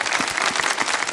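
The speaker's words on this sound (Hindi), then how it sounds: "तालियां बजाएं भाई महावीर के लिए।" Studio audience clapping for a young boy on a Pakistani TV kids' segment, a dense, steady burst of many hands close and loud throughout the short stretch.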